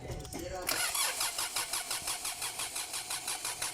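A 2009 Kia Sorento engine cranks briefly, then catches and runs with a rapid pulsing idle, close and loud, with a voice over the start.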